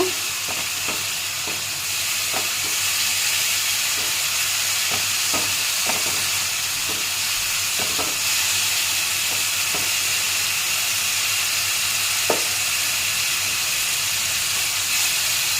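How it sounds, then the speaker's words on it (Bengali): Spice paste for a chital fish muitha fries in oil in a pan, giving a steady loud sizzle and hiss throughout, with occasional sharp clicks of a spoon stirring against the pan. "এই যে মশলাটা ভালো করে এটা কষিয়ে নেব"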